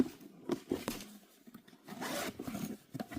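A zipper on the inside zip pocket of a Coach or Marc Jacobs handbag is pulled in several quick close rasping strokes, with short pauses between runs and a longer steady pull near the end.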